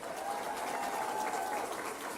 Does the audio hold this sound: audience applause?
yes